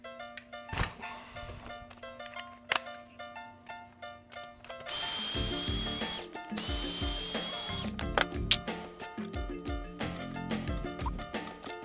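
A power drill bores body mount holes into the chassis of an RC4WD Xtra Cab scale truck, with short bursts of whirring and thunks between quiet handling noises, close and fairly loud.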